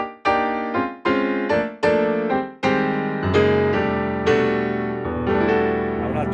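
Grand piano tones from a digital stage piano's White Grand preset, played in separate chords, each struck firmly and left to ring and decay, gradually moving into a fuller, sustained passage.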